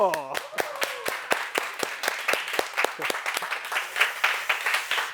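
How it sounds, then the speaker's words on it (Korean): A small audience at a Korean talk event claps in sharp, evenly spaced hand claps that thicken into steady applause, with a voice trailing off at the start. "박수!"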